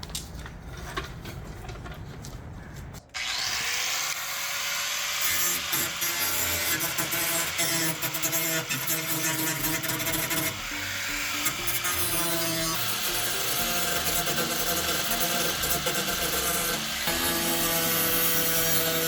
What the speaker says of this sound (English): And we're using a grinder. Bring it out.